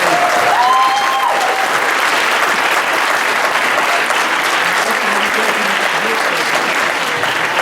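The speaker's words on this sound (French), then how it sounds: "Lui aussi, vous pouvez l'applaudir parce qu'il est brillant." Loud, sustained audience applause fills a hall at a Radio Laser anniversary and diploma ceremony, dense steady clapping with a brief voice at the start.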